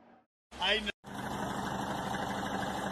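A modified Toyota Hilux idles with its altered exhaust, a steady low engine rumble that starts after a short burst of speech and continues alone at moderate level.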